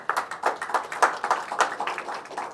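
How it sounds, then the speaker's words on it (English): A small audience at an IEEE lunch-and-learn event gives a quick round of applause, a brisk patter of separate hand claps close by, steady for a couple of seconds with no voices. "Quick round of applause for them."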